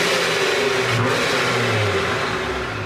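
The engine of a 2020 Jeep Gladiator Rubicon, fitted with a blow-off valve, revs loud and close in a sustained throaty roar that wavers in pitch and eases slightly toward the end.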